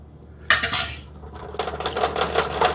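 A metal fork scrapes and clinks against a pan while mixing live resin cannabis concentrate, one sharp clatter followed by a run of quicker rhythmic scraping taps, close and alone.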